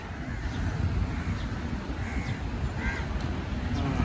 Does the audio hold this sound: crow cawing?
yes